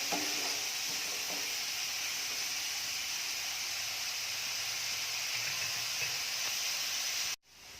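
Onions with a pinch of salt are stirred and sautéed in a pan for a chicken roll filling, giving a steady, soft sizzle and hiss that runs without a break and then cuts off suddenly near the end.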